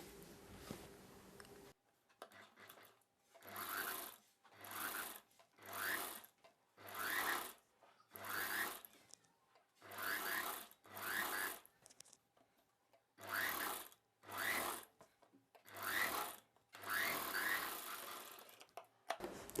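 Sewing machine stitching the hem of an umbrella dress, whirring in a series of short bursts with quiet gaps between, close and steady with no voices.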